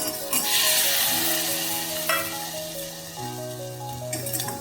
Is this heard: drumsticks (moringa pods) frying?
yes